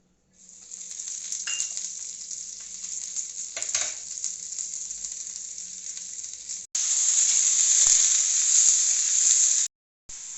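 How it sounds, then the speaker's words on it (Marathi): Mixed vegetables sauté in hot oil in a pan for a kurma: a bright, continuous sizzle with a few stirring scrapes, then a louder burst of frying before a brief cut near the end. "ह्या ज्या सर्व भाज्या आहेत तेलामध्ये एक दोन ते तीन मिनिटं परतून घ्यायचे आहेत"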